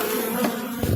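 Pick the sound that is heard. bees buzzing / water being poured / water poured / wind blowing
bees buzzing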